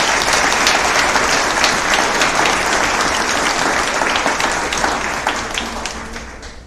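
An audience at the Penn Vet Working Dog Center 10th anniversary event gives a loud, dense round of applause, many hands clapping steadily for several seconds before slowly tapering.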